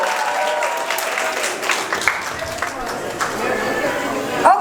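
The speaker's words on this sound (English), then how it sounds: "Give yourself a round of applause." Wedding reception guests clap and cheer in a loud, sustained burst with crowd noise mixed in; a voice is heard briefly near the end.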